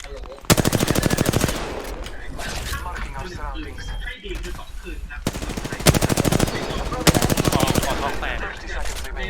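Rapid automatic gunfire from the video game Apex Legends crackles in several loud, sustained bursts, with players talking excitedly between and over the shots.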